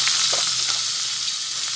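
Nigella seeds hit hot oil left from frying fish and sizzle loudly, a steady bright crackle close by with a few faint stirring clinks.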